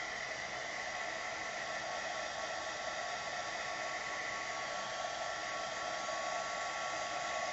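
A heat tool blows steadily over a freshly stamped card to dry the ink, a loud, even hiss that runs unbroken from start to finish with no voices.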